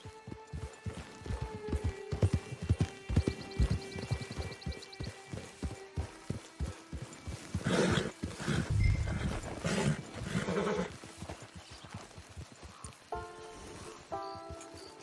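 Horse hooves clip-clopping in the Red Dead Online video game, heard as a steady run of rhythmic hoofbeats with a brief whinny, set against game music and ambience, fairly close and moderately loud.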